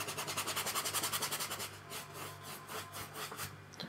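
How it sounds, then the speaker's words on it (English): Paintbrush scrubbing paint across a canvas for the hills of a landscape painting, a rapid rhythmic back-and-forth rasp for the first second and a half, then looser, softer strokes, close and fairly quiet with no talk. "the reason you scrub it on is so you haven't got too much paint on there"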